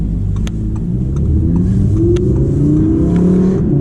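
An Audi R8 revs steadily while driving on a cold January day, its loud, continuous engine note climbing in pitch as it accelerates, with a deep rumble underneath.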